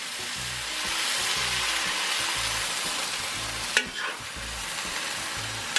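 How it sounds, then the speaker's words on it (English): Marinated fajita steak stir-frying in a Weber wok, a loud, steady sizzle with a rhythmic scrape and toss of the meat and one sharp metallic clank near the end. "we're going to stir fry that around a little bit"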